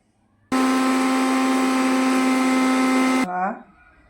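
A kitchen mixer grinds dried tulsi (holy basil) leaves into powder, a loud steady high whine that starts abruptly, runs for about three seconds, then cuts off and winds down.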